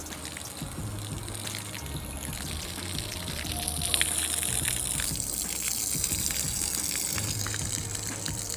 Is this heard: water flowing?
yes